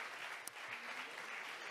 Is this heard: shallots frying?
no